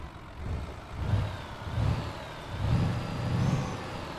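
A Renault Magnum Integral truck engine in Euro Truck Simulator 2 idles with a low, pulsing rumble that swells and fades in soft waves, fairly quiet and heard alone.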